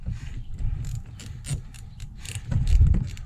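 A ratchet backs out a valve cover bolt on a 7.3 Powerstroke, a run of quick close clicking pawl strokes in an uneven rhythm over a low mechanical rumble.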